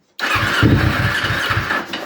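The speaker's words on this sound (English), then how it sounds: "just give it a crank and see if it does a pop or two" A newly built motorcycle engine cranks over steadily for about two seconds with rhythmic starter pulses, loud and close, without catching.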